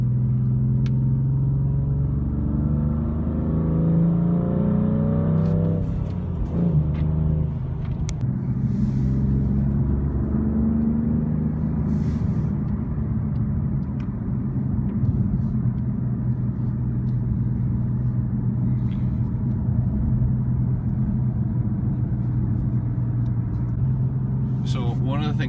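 A BMW M3 F80 with the Competition Pack cruises on a quiet road, its exhaust a steady low drone heard from inside the cabin, swelling briefly as the engine pulls harder, with faint voices underneath.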